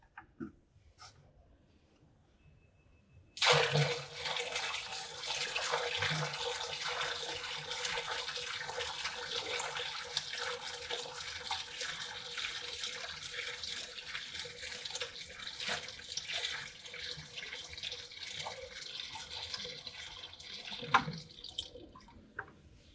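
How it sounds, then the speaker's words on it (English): Water pours steadily from a 5-gallon bucket into a pump system, a continuous rushing splash that starts abruptly and keeps going for about eighteen seconds at an even level before ending. "I'm going to pour some water into the system."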